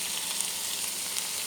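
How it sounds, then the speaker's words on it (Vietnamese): Meat stir-fried with carrot and wood ear mushroom for carrot corn soup, giving a steady bright sizzle, close and even, with faint stirring ticks and no voices. "Thịt săn lại thì cho tiếp cà rốt và nấm mèo vào."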